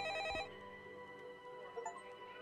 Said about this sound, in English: Let's go answer the phone.